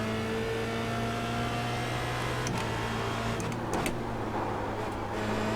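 Formula Renault 2.0 race car engine in iRacing holds a steady, droning high-pitched whine at close range, with faint clicks and brief transient bursts partway through, all without any voices.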